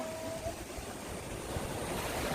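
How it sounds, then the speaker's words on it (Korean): Big ocean wave breaking on a sandy beach at Jiduri beach on Daecheongdo island, a steady broadband wash of surf that swells louder toward the end, with no talk. "와, 큰 파도다."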